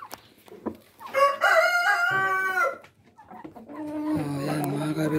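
A Rhode Island Red rooster crows loudly and close by in one long drawn-out call, followed by lower clucking and another crow-like call from the flock, with no speech.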